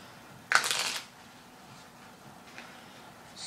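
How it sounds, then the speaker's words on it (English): A deck of playing cards riffled during a card trick: one quick, crisp burst of shuffling lasting about half a second, close and fairly clear, followed by quiet handling. "Square up the cards and give them a cut. And again, more cuts are yet to come, and more shuffles."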